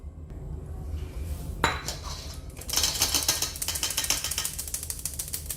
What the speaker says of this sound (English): Now I will sift the flour and I will add it here now